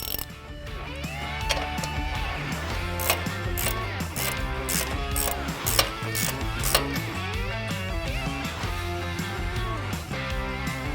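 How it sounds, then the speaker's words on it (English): A ratchet with an 18mm socket spins off a nut on the suspension of a 2019-2023 Ford Ranger, producing a continuous run of fast ratcheting clicks over a steady tonal background for the whole stretch. "we're going to take our 18mm socket and remove this nut"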